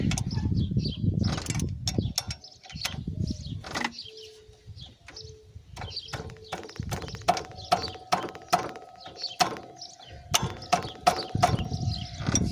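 A ratchet wrench works on AC compressor bolts on a 1995–96 GMC truck, giving bursts of quick clicking strokes in a quiet garage, with rustling and a faint whistle-like tone between them.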